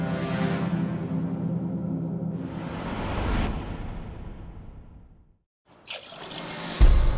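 Liquid pours in steady splashing streams, milk diluted with water, with a pause of near silence before a louder, brighter gush resumes near the end.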